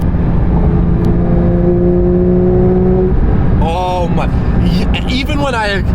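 A 2022 Porsche 911 992 GT3 engine pulls gently under light throttle in seventh gear, heard from inside the cabin as a steady low drone with a rising tonal whine. A person speaks over it in the second half.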